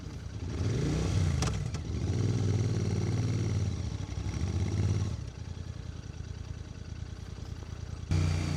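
A Royal Enfield Interceptor 650 motorcycle on a scenic ride gives a close, throbbing engine note that rises and falls with revs and gear changes over wind rush, with no speech.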